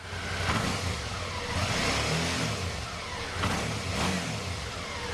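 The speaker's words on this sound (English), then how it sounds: "I'll let you hear the motor, give it a little gas." A 2012 Suzuki V-Strom 650 motorcycle engine is given small blips of throttle, the pitch rising and falling in a few short swells over a steady running drone, close and without voices.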